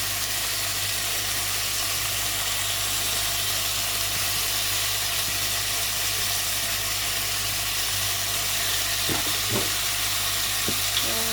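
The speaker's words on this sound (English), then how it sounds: "So I'm just going to saute this until it's a little bit brown." Turkey chops saute in a hot pan for chicken soup, giving a steady, close, broadband sizzle that holds level throughout, with a few faint clinks near the end.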